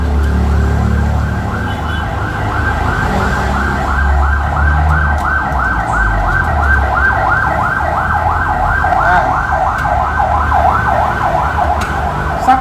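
Ambulance siren wailing steadily outside in a repeating rising-falling pattern, loud and continuous over a low engine rumble, heard during repair work on a 2017 Mitsubishi Mirage G4 alternator.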